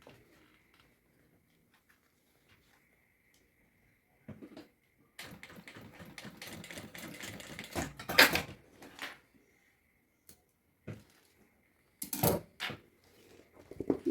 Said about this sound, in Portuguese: e vou costurar, obviamente, do outro lado.